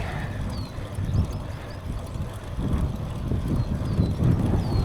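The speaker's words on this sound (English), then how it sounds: "It is a breezy one today." Breezy wind gusts buffet the microphone on a bike trail toward Flanagan Lake during a road bike ride, a steady low rumble that swells and thickens toward the end, with no talking.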